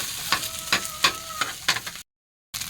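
Sinangag fried rice, made from leftover rice with its crispy scorched bottom, sizzles in a pan as a spoon stirs it in several distinct scraping strokes. A short silent gap comes before the frying resumes.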